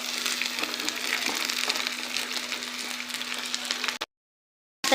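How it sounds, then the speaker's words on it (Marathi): Okra frying in a hot pan with turmeric and chili gives a loud, steady sizzle for about four seconds, then cuts to a brief silence before the sizzling returns. "आता आपण यामध्ये भेंडी टाकून घेऊया"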